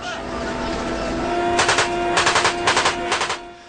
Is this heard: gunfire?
yes